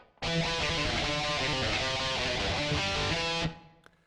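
A distorted electric guitar plays a fast, driving opening riff for about three seconds, loud and dense, then stops abruptly with a short ringing tail.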